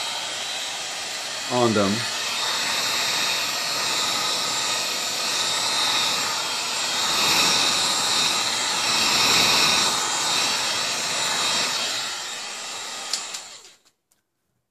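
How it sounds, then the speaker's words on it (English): A heat gun blows hot air onto Nike KD 7 sneakers, giving a loud, steady, close-up whirring roar that runs unbroken for about thirteen seconds before cutting off abruptly, with a brief spoken phrase near the end. "I got a heat gun just accelerated to show you guys how they look when they're heated."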